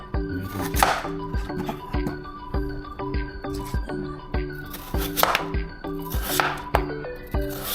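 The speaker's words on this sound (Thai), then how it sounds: "หัวใช้เท้า ก็หั่นเป็นเล็ก ๆ" A knife chops radish rapidly on a cutting board for kimchi, quick rhythmic taps with occasional louder strikes, close by.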